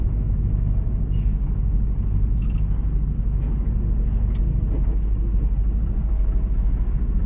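Inside a truck cab on the road in the Yvelines, a loud, steady low engine and road rumble runs throughout, with a few faint clicks and rattles on top.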